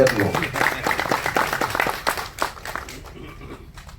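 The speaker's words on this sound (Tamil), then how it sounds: "கைத்தட்டுங்க" Audience at a Tamil film-world speech event applauding on cue. A burst of clapping rises under and after a man's amplified speech, then thins out toward the end.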